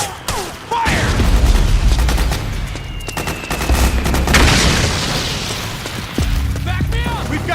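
Heavy gunfire and booming explosions in the Metal Gear Solid 4 video game, with sustained rattling bursts and deep blasts over a rumbling battle bed, and shouted voices cutting in between.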